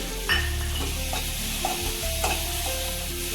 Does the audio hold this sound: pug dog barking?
no